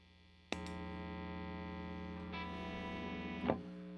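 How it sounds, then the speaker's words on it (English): A Squier Classic Vibe 60s Telecaster electric guitar, played through a distortion patch, rings out with a sharp attack and a sustained distorted chord, then shifts to a second chord and finishes with a brief strum accent near the end. "let's go ahead and go back to some awesome distortion"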